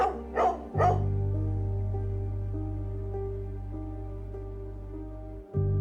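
Barks from a dog out near crows, a few sharp yips at the start, then a steady low hum carries on alone to the end.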